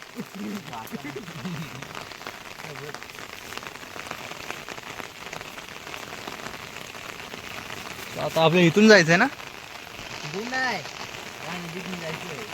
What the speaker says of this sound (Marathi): पाऊस पण आता झाला जास्त